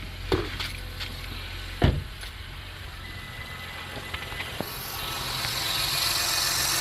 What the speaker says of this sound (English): Car started perfectly fine.